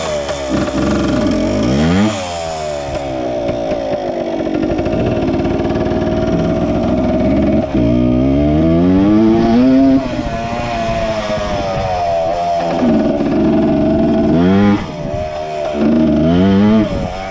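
An MX 100 motorcycle engine, hot, revs loudly and close, its buzzing two-stroke note climbing and dropping in repeated sweeps with short dips between throttle bursts.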